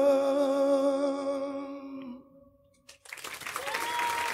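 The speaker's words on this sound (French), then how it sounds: "Heureusement qu'ils ont applaudi, hein." An audience applauds after a song performance, following a sustained sung note. The applause builds in as a dense, steady wash of clapping that continues to the end.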